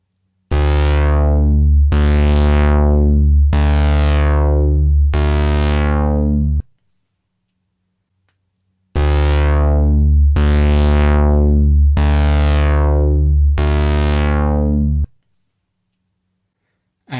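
A synthesizer tone modulated by a sawtooth-wave LFO: each cycle starts bright and loud, then falls off sharply and restarts. There are two groups of four repeating sweeps separated by silence, loud and alone.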